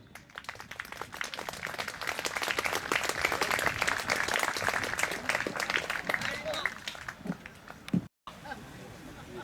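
Spectators at an equestrian demonstration applaud the horse riders, scattered clapping heard from a distance, moderately faint and uneven, briefly cutting out near the end.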